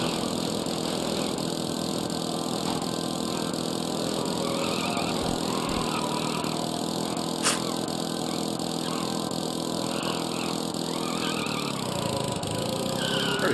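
A go-kart engine drones continuously through a race in the game Bully, a loud, buzzing small-engine whine holding steady with slight pitch shifts as the kart corners.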